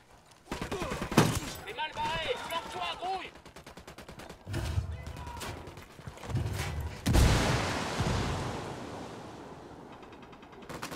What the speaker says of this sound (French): Il a tiré une... Mortier.